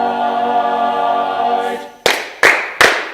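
Three sharp hand claps in steady rhythm follow a sustained sung chord at a choir arrangement rehearsal, each clap loud and close with a short ring.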